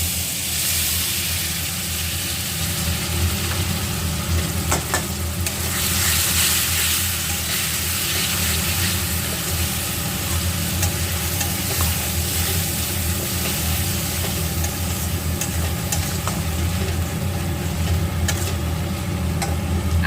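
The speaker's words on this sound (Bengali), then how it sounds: "বেটে রাখা আছে গ্রাইন্ড করে রাখা আছে এখানে পেঁয়াজ আদা রসুন এবং গোটা সাদা জিরে আমি প্রয়োজন মতো এখানে দিয়ে দিচ্ছি" Onion, ginger and garlic paste with whole white cumin frying in hot oil for a prawn and potato curry: a steady, close sizzle runs throughout, with faint stirring beneath and no voices.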